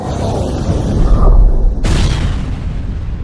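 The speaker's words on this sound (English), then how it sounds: "He gave us the signal, torpedo!" Cartoon torpedo explosion: a deep, loud rumbling boom that swells and then breaks into a sudden bright burst, fading into a lingering low roar.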